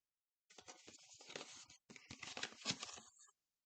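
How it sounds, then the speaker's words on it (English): Tarot cards being shuffled up close, soft riffling and pattering in two bursts separated by a short pause, quiet and with no talking. "I wasn't done shuffling."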